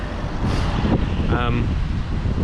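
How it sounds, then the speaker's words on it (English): Steady low rumbling wind buffeting outdoors, loud and continuous, with a voice speaking over it. "it's very windy out today"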